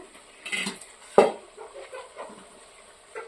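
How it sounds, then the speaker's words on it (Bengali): A metal lid set down on a cooking pot of spiced chicken and vegetables, one sharp clank followed by faint kitchen rattles and stirring. "এখন আমি ঢাকা দিয়ে রেখে দেব"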